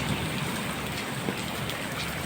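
Heavy rain pours steadily on surfaces during a storm with wind, a dense, continuous hiss that stays loud and unbroken, with no voices.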